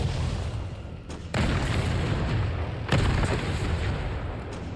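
Two heavy, booming blasts from a rocket launcher in the Resident Evil 3 video game on PS4, each a sudden loud burst with a rumbling tail, set over constant game noise without talking.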